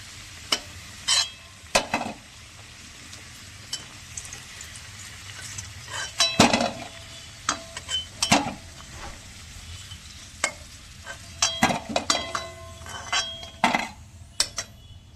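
Whole spices, bay leaves, cinnamon, cardamom and cloves, sizzle in hot oil in a pan for mutton curry, with a steady fry under frequent sharp clinks and scrapes of a spoon stirring against the pan.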